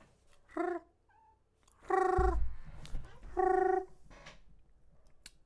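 A kitten purrs and mews in short, close bursts, a few tonal calls separated by quieter gaps with a low rumbling purr under them.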